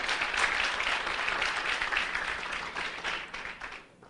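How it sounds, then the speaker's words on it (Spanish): A church congregation applauding during a sermon on the Holy Spirit, a sustained dense burst of clapping that fades out at the end. "vamos a aplaudir la persona del Espíritu Santo que está presente acá"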